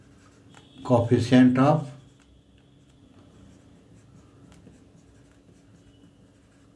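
Steady soft scratching of writing on a board during an engineering mechanics lecture, continuing faintly after someone briefly speaks at the start.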